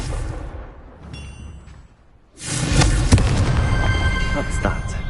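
A Confringo fire curse from Hogwarts Legacy goes off after a short lull, a sharp blast that rolls into a loud, sustained crackling burst like fireworks.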